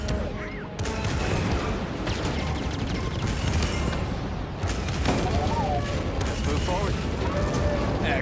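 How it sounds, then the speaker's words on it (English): Heavy starship cannon fire in Jedi Fallen Order booms and crashes in a continuous barrage, loud and dense, with brief gaps between volleys. "So that fires the cannons."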